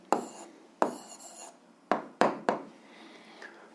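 Pen writing an answer on paper in a physics exercise, a few short, close scratching strokes separated by pauses, fairly loud against a quiet background, with no voice.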